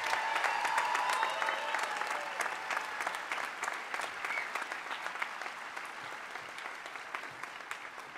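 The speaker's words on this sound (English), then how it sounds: "Let's have another round of applause for everybody." Steady crowd applause at a college commencement ceremony for the graduates, many hands clapping evenly and slowly tapering off, heard from some distance.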